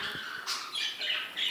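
Lovebird in an indoor bird breeding room giving a run of sharp, shrill squawks and chirps, several short calls in quick succession, fairly faint, with no voices.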